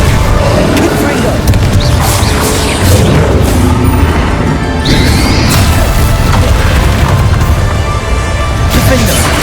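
Confringo explosive spell blasts in Hogwarts Legacy, loud crashing booms and splintering impacts piled over continuous combat noise, with a voice calling out spells.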